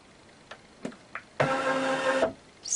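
Embroidery machine moving a metal hoop frame, a few short clicks followed by a loud steady motor whir lasting under a second, then another whir starting, close and alone.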